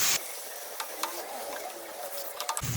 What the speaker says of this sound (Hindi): कीमे को भी हम फ्राई करेंगे कलर चेंज होने तक।